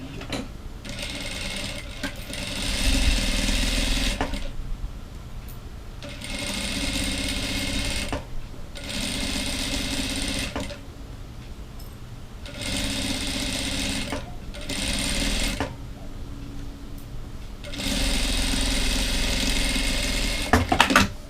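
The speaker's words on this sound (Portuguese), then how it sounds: "E agora eu vou costurar aqui em cima," A sewing machine stitches the top binding of a cotton dish towel in about six sustained whirring runs separated by short pauses, close and clear.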